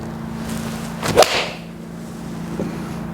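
A single sharp, crisp strike of a Callaway Apex golf iron hitting a ball around the one-second mark, with a brief airy whoosh trailing after it, then a quiet outdoor background.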